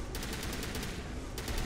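Gunfire in the video game Mass Effect: a dense, continuous rattle of rapid shots with fine repeating bursts, steady and moderately loud over a noisy background.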